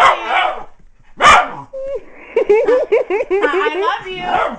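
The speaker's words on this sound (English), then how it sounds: "I think he just barks until it sounds like it." A dog barks and yips close by, with short sharp barks early on and then a rapid run of whiny, howl-like vocal yowls, loud and near throughout.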